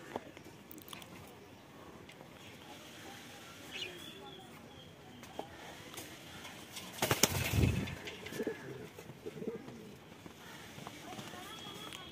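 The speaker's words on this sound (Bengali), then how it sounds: "তো এই 4 পেয়ার পায়রা আছে বর্তমানে।" Black Pomeranian pouter pigeons make soft, scattered coos and rustles against steady background noise, with a sharp loud scuffle or flutter about midway.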